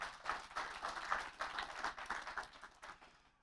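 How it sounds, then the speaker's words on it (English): A church congregation gives a short round of hand claps, a quiet, fairly scattered burst of clapping that fades out after a few seconds. "Let's give the Lord a hand clap."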